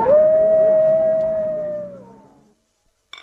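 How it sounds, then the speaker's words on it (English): A loud, sustained howl from Alsatian police dogs on the hunt holds a steady pitch and then slides down as it fades away, followed by a brief silence and a short noise at the end. "That sounds like police dogs. Hunting. Alsatians."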